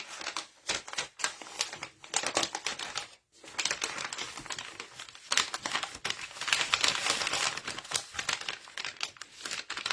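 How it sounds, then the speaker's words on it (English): Paper being folded and creased around a book for a handmade gift, with continuous crinkling, rustling and sliding, briefly pausing, close and fairly loud and with no voices. "this is too big to begin with, so let me just make it smaller. And then I'm going to fold it just to one side"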